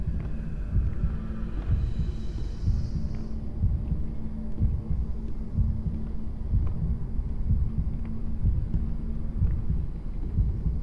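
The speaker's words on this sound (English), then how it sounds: "I can hear a heartbeat." A low, throbbing heartbeat plays in Bendy and the Ink Machine, a steady rhythmic thump under a dull hum that repeats evenly throughout, with no talking.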